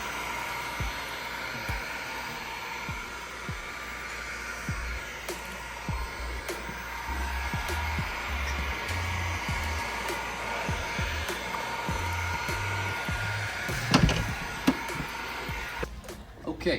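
A heat gun blows a steady, continuous hiss while warming vinyl wrap on Durango racetrack lights to activate the adhesive, close and even throughout, with a few light handling clicks and taps toward the end.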